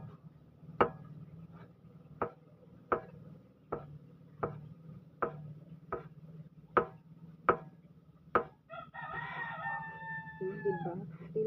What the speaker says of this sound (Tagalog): Tilaok pang aking chicken.